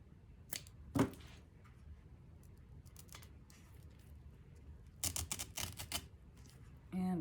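Scissors cut through dried pampas grass stems, making a few sharp isolated snips and then a quick cluster of crisp cuts near the end, with soft handling noise between them and no talk.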